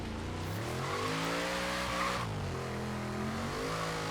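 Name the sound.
car drifting and skidding in video game Forza Horizon 3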